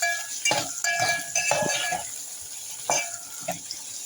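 Onions and curry leaves frying in a pan, with soft sizzling under a few scraping and clattering stirs, close by and with no talking.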